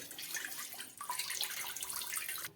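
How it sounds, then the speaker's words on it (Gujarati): Water poured into a pan for steaming dhokla, a steady splashing pour lasting a couple of seconds before it stops abruptly. "હવે તેમાં આપણે બે ત્રણ ગ્લાસ જેટલું પાણી નાખી દેવાનું"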